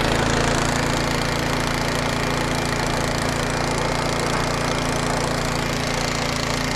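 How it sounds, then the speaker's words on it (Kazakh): A small tractor engine runs loud and close, a continuous rough rattling chug that holds steady throughout with no voices. "Кырылдаган трактордун үнүн угата турасыздар."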